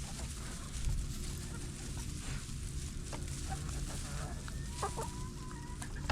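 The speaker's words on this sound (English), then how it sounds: "I'm gonna just step back here and let the chickens spread" Chickens clucking inside a shelter on an icy farm, several hens making scattered soft clucks over a steady background hum and rustle, with no talking.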